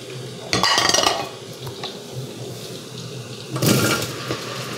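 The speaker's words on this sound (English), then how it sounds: "So we're going to add the potatoes." Potatoes tumble into the bowl of a Chef Robot cooking food processor during potato soup prep, two short rattling bursts of pieces hitting metal, close by and without talk.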